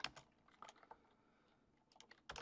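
Computer keyboard being typed on, several quick bursts of clicking keystrokes at the start, middle and end with soft gaps between them, close and fairly quiet.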